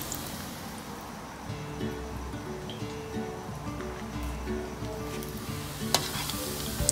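Bread pieces deep-frying in oil for bread Manchurian give a steady close sizzle and crackle, with occasional light stirring and a sharp utensil tap near the end.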